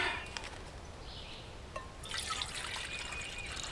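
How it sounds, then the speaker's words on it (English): Water poured into a camping cook pot, a steady bright trickle that builds and grows fuller toward the end, close and fairly quiet with no talking. "First off, get 12 ounces of water in my pot."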